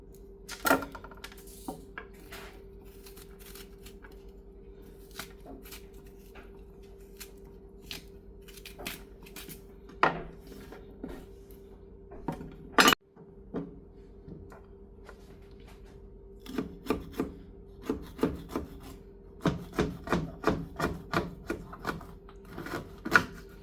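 A metal spoon scrapes the seeds and pith out of halved bitter melon (karalee), giving scattered close scratchy clicks and taps, sparse at first and then a quick run of repeated strokes near the end.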